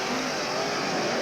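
Race cars roar steadily down the main straightaway out of turn four at the 1985 Kenny Simpson Memorial, a 100-lap event, a dense continuous engine drone with no talk.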